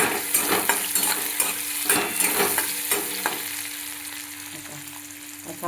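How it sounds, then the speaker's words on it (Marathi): Tomato frying in a pan while cooking bhindi (okra), a loud close sizzle with repeated scraping and stirring clinks of a utensil against the pan, easing slightly toward the end. "असं आपलं टमाटर तळलेलं आहे"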